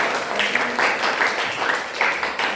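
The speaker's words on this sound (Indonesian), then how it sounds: "Beri tepuk tangan untuk kita semua." Applause from students in a classroom during a role-play lesson, a steady patter of many hands clapping at moderate volume for a couple of seconds, with no one talking over it.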